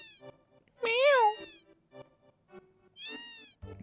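A cat meows in the Final Fantasy VII video game on PlayStation 1, with two clear, drawn-out meows, one near the start and one near the end, plus short quieter sounds between them.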